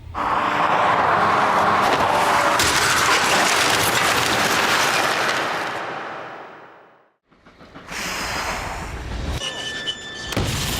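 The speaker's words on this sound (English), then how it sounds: "The Focus is obliterated on impact." A remote-controlled Ford Focus slams into another car in a crash test, a loud broad crunch and roar of metal that fades to near silence, followed by scattered clattering debris and lighter rattles afterward.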